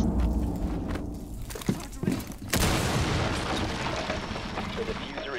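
Video game gunfire in a tactical shooter match, a burst of sharp shots and mechanical clatter with a loud blast midway, mixed with in-game noise and a player talking over it.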